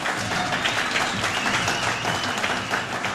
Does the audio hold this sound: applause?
yes